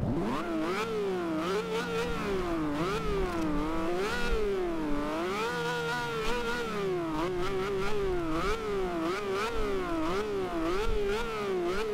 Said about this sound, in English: That's what the Veneno sounds like, and it sounds awesome.